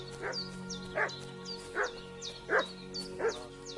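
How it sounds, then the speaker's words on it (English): Dog in Kingdom Come: Deliverance 2 barking in five sharp, evenly spaced yaps over a steady low ambient hum, moderately close with no talk. "What's that dog making such a fuss about?"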